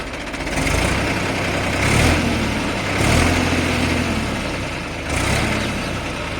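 A New Holland 3230 tractor engine idles with a steady low rumble, its throb swelling slightly every second or so, close and continuous.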